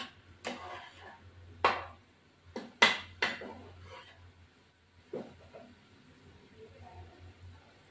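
Chopped vegetables for chicken soup, papaya, beans, carrot and capsicum, being stirred in a pot, heard as a handful of sharp utensil clacks and scrapes against the pot separated by quiet gaps, close by.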